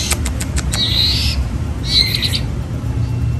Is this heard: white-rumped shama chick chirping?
yes